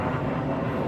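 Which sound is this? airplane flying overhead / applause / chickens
airplane flying overhead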